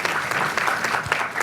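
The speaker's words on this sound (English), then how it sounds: "let's give them a huge round of applause for their remarkable achievements" A short burst of loud, dense audience applause at a public health forum, celebrating achievements with a continuous roar of clapping hands.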